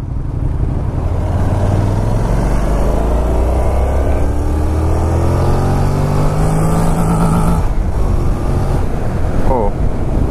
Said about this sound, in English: I didn't expect it to hit the rev limiter so soon then.